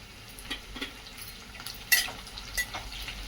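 Chopped chillies and onions frying in a pan for veg pulav, with a soft steady sizzle, light stirring scrapes and a sharper clink near the middle, quiet and close.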